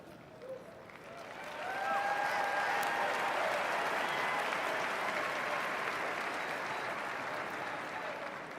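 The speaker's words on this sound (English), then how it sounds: "Those men and women cheering, chanting over and over and over again, USA, USA" A large crowd at a presidential inauguration bursts into cheering and applause, swelling from a quiet start into a loud, sustained wash of clapping and shouts that carries on to the end.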